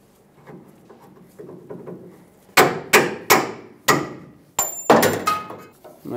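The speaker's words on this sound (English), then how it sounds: "I'm gonna take a pry bar, just push on the end of the bolt." Metal tool work on a 2008-2010 Ford F-250 Super Duty rear leaf spring shackle, a pry bar pushing out the bolt: soft scraping and shuffling, then a run of loud sharp metallic knocks and clanks, close up.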